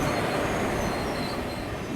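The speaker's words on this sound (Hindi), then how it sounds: "और कुछ तो पैसेंजर ट्रेन आ रही है।" A blue ICF-coach passenger train rolls past close by near Banka Ghat station on the Howrah–Patna line, a steady loud rumble of wheels on rails throughout with faint wheel squeal.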